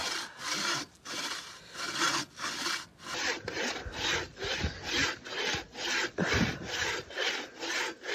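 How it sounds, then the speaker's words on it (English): A long bow saw rasps through wood in a steady back-and-forth rhythm outdoors on a trail, each stroke a rough scraping burst, close and continuous with no talking. "he's sawing right now with another long bow saw of ours"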